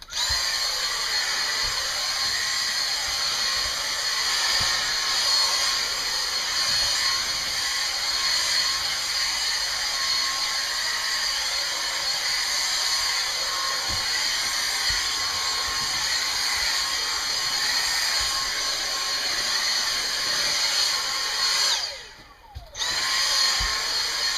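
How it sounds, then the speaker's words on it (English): A vacuum cleaner runs continuously while detailing an RV interior, a steady high whine with light scraping and bumps against surfaces, cutting out briefly near the end before starting up again. "Just gonna run a little vacuum over this."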